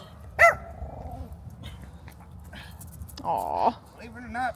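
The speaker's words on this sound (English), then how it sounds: "See, look at that dog." A German Shorthaired Pointer gives a short bark and a few whiny yelps among other noises and people talking nearby, fairly close.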